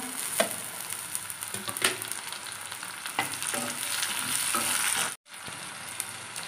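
Onions and tomatoes frying in a pan, a continuous bright sizzle with occasional stirring knocks, close and fairly loud, cutting out briefly near the end.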